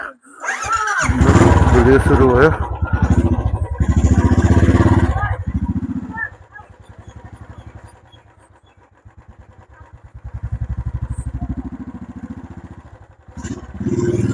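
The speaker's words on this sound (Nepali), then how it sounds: "राइड सुरु गर्न जान्छौँ ट्याक्क बाइक त्यहाँ बसिरहेछौँ" A motorbike starts up and chugs loudly nearby, then settles into a throbbing idle that swells and fades as it moves off for a short ride, while someone talks briefly over it.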